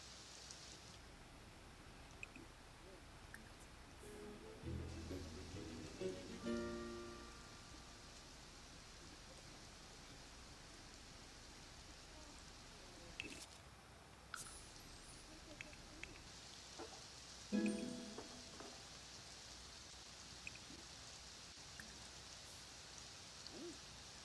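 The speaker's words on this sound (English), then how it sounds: "Alright, it's raining again." Soft steady rain patters in The Sims 4, a faint even hiss running throughout with a few brief game sounds and tones rising over it.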